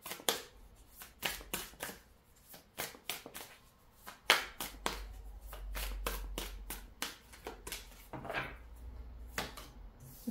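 Tarot cards shuffled by hand in a steady run of crisp riffling bursts, close up, with no talking.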